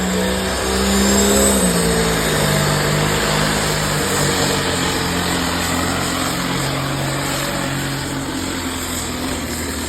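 A super semi test puller truck roars at a truck pull, its heavy diesel engine revving hard and loud up front, then holding a steady, sustained drone for the whole stretch with no talk.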